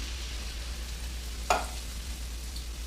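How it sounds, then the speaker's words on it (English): Beef consomme poured into a sizzling pan of beef filling for shepherd's pie: a steady frying hiss throughout, with one sharp splash-like burst about halfway through as the liquid hits, then the sizzle resumes, with no voices. "we're going to take the beef consomme, throw it in there"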